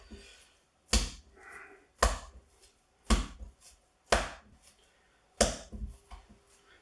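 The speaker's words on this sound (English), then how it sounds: "Give it a couple of smacks down." Lamb kofte mix is slammed down into a bowl five times in a steady rhythm, each a close, heavy, damp thud with quiet gaps between.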